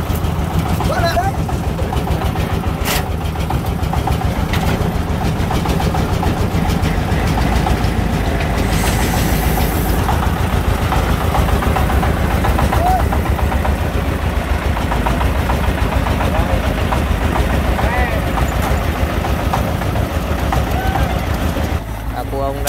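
A Chinese-built engine mounted on a three-wheeler carrying stones runs continuously with a loud, rough, steady rumble throughout, close up and unbroken.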